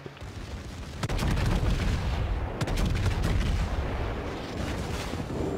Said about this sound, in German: Meine Kanonen sind geladen, Türme in Position